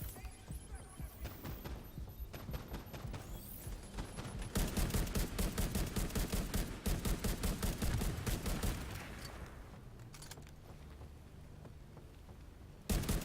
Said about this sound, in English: Grenades getting launched again.